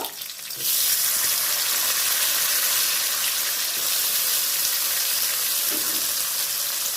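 Black cumin seeds and chili dropped into hot oil for drumstick posto, bursting into a loud, continuous bright sizzle right up close that holds steady throughout.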